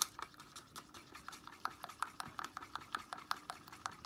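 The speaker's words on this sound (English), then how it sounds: "So I'm gonna stir that in." Vallejo pouring medium is stirred in a small container, giving quick, soft rhythmic scraping ticks that repeat steadily, close and fairly faint.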